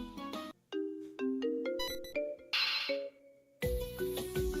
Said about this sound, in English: Never thought Savannah would have a ringtone like that.